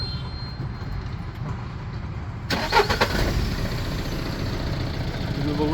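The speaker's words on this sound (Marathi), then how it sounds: "पण इंजिनची कंडिशन गाडीला स्टार्टर मारून" A second-hand Tata Intra commercial vehicle in near-showroom condition starts with a sudden burst partway through, then settles into a steady, soft-firing idle. The engine is close and moderately loud, with no talk.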